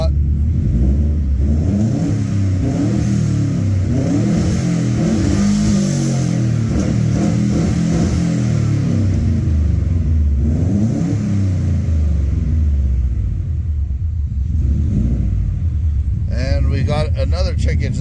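A Subaru WRX engine with a slight stumble revs up and down repeatedly, a loud, close rumble rising and falling in pitch, with a voice speaking over it.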